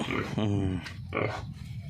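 Pigs grunt on a small Thai farm that also keeps cattle, with several short, rough, close-up grunts mixed in among people talking.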